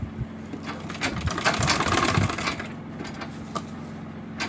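A sewing machine stitching a fabric bag, running in a steady mechanical rattle that swells louder in the middle, with a few sharp clicks near the end and no voices.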